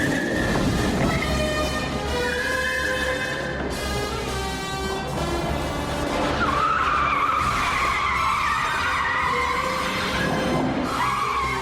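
Tyres skid and squeal loudly and continuously during a James Bond car chase, with a rising screech over engine roar and rumble, no voices.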